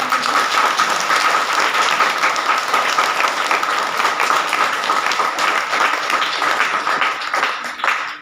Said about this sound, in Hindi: जोरदार ताली हो जाए नए लोग